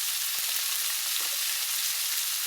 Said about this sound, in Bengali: এখানে আমি মাছ ভাজি করতেছি